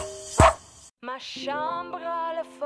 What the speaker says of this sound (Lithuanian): jaunas gražuolis 9 mėnesių vokiečio aviganis Nordas